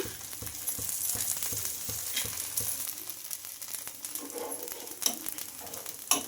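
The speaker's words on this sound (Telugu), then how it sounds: "ఇంకా ఇప్పుడైతే కొంచెం ఆయిల్ అయితే వేసుకుంటున్నానండి ఇలా" Oil sizzling on a hot pan while making dosa, a steady close crackling fry with occasional stirring and scraping sounds and no talk.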